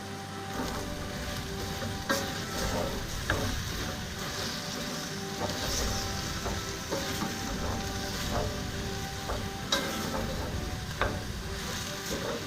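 A rice mixture for Riz Henry, with Spanish spice blend, sizzles in a pan while being stirred, a continuous frying crackle broken by regular scraping strokes and clacks of the utensil.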